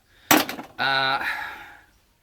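A hammer strikes metal sharply, followed by a bright ringing clang that lingers and fades, loud and close, with no talking.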